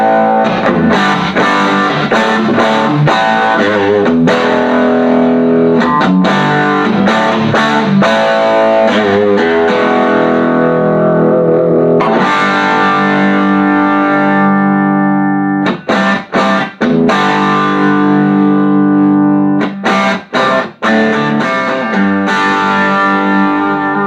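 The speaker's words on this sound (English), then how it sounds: "This is what it'll get for natural distortion when you lay into it." An electric guitar played through a cranked Granville Mystery Marvel tube amplifier, loud, thick natural overdrive on sustained chords and choppy riffs, with a few brief stops near the end and no talk.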